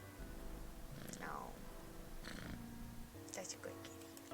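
A cat purrs close by in a soft, continuous low rumble, with a few faint higher chirps and rustles.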